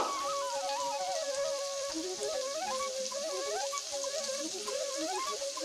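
Paneer, cashews and raisins frying lightly in oil give a soft, steady sizzle and crackle beneath a louder melodic music track that carries on throughout.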